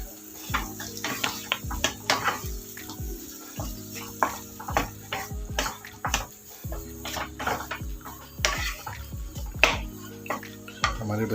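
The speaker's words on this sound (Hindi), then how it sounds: "थोड़ा भूनेंगे।" A spoon stirs and scrapes ingredients being sautéed in a pan for a bread recipe; irregular metallic knocks and scrapes come with a light sizzle, close by, over a steady tonal background.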